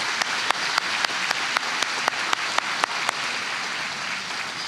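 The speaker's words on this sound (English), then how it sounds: "please give them a round of applause." Steady applause from a gala audience fills the room, broad and sustained, with a few sharper individual claps standing out near the front.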